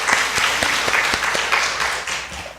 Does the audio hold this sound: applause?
yes